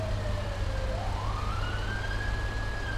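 A police car siren from the LSPDFR mod for GTA V wails steadily over a loud engine drone, its pitch sweeping up and holding high throughout.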